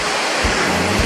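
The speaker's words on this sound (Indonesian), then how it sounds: "suaranya juga sangat keras, suara airnya ya" A waterfall roars with a dense, steady, loud rush of falling water and strong wind at close range, a continuous broadband wash with no voices.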